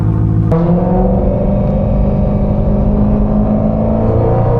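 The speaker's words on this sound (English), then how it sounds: "I'm gonna try to get some sound clips of me driving and revving it" A BMW M3 with a newly fitted exhaust revs loudly and steadily close by, a deep droning engine note holding high revs for several seconds with a brief blip near the start.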